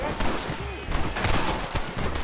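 Gunfire in the Western video game Red Dead Redemption, a rapid irregular volley of shots and bangs crackling over a busy in-game background, fairly loud and continuous.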